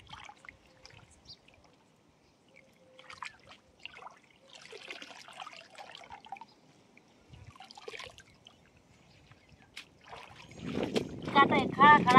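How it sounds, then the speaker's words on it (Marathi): Wild chigal greens washed by hand in water to rinse off sand: sparse soft splashes and drips build into louder sloshing and swishing toward the end. "आता खळा खळा अशी धुतली की त्याची रेती बिती निघून जाते"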